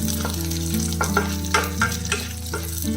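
Four dried red chilies fry in a pan, giving a steady close sizzle with a few brief stirring scrapes and a low hum underneath, and no talking.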